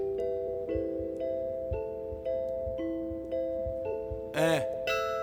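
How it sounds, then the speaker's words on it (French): Bells ring repeatedly in a steady series of bright, sustained chimes, with a louder cluster of strikes near the end, fairly close. "C'est des cloches."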